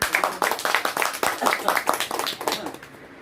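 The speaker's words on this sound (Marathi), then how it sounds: "तर एक वेळा तुम्ही आपल्यासाठी सगळे टाळ्या वाजवून द्या" Audience clapping at a business plan presentation, a dense run of claps rising and falling in bursts for about three seconds, fairly close and loud, with no clear talk over it.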